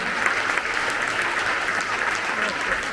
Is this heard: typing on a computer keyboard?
no